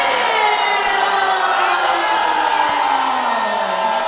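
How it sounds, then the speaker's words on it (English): A wrestling crowd cheers and roars loudly and steadily as Matt Riddle makes his entrance at a CCW show in PSL, Florida, with a rising tone running under the noise. "And the crowd comes to their feet."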